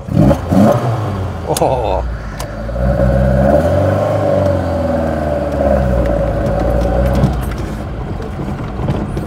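A Fiat 131 Mirafiori Sport on twin Dell'Orto carburettors gives a loud, sustained induction roar as it accelerates and revs, heard from inside the car with a brief exclamation at the start.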